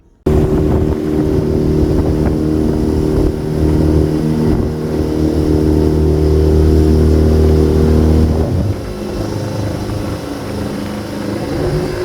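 A trimaran motoring through the Narrows, its engine a loud, steady low drone with a strong harmonic hum, easing slightly in level near the end, with no talk.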